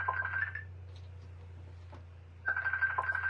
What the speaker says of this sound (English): someone's calling me on my phone.